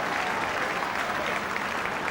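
A stadium crowd applauding at a Harlequins versus Leicester rugby cup quarter final, a broad, steady wash of clapping from many people, continuous and even for two seconds.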